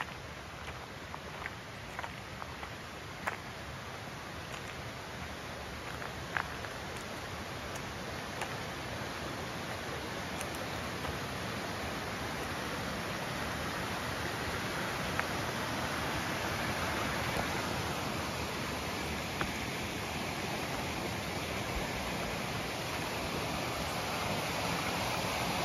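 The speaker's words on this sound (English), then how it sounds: "you can hear the water gushing out" Steady broadband rush of spring water gushing out of the ground near the Eleven Point River, constant and fairly loud throughout with no voices.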